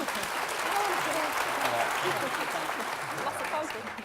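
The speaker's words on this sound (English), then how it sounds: "Can we get a round of applause just to make them feel nice and welcome?" A quiz-show audience welcomes the competing teams with a steady round of applause, dense clapping sustained for several seconds with faint crowd voices mixed in, tapering slightly at the end.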